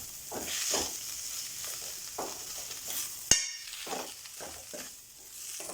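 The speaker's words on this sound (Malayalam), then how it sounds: "ഇത് നന്നായി ഇളക്കി യോജിപ്പിക്കാം." A spoon stirs chicken cutlet filling with chili powder in a hot pan. Soft scraping strokes sound over a gentle sizzle, with one sharp metallic clang from the utensil striking the pan midway, all close up and without talk.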